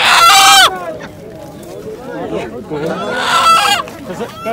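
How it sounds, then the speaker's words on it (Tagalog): Loud rooster crowing at the start and again near the end, with chickens clucking in between, close by, at a live chicken market in Taif, Saudi Arabia. "Manok, yan manok din yan."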